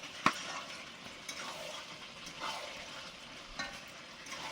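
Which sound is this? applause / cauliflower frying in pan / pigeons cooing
cauliflower frying in pan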